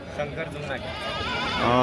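A goat bleats several times amid a busy outdoor crowd at a weekly goat market, with people talking nearby throughout.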